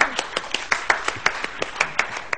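A studio audience on a television morning show claps along to a song, sharp hand claps landing in a steady, even rhythm, moderately loud, with a faint musical bed behind them.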